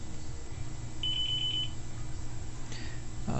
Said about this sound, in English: it lets you know that the unit is ready with 5 beeps